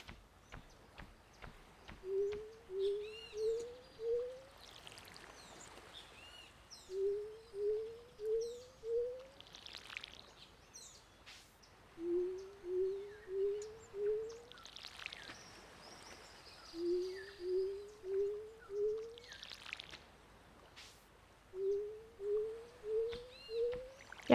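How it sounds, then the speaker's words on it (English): In a video game, a crow gives a regular series of calls, four quick rising caws per burst repeated five times at even intervals over a quiet, faintly clicking background. "Yeah, I hear crow"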